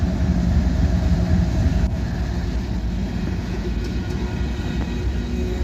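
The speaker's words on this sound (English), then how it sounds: "I got a train coming by." The Abbeville switcher train rolls past at close range, a steady low rumble and rattle of rail cars that holds fairly constant and eases slightly, with no talk.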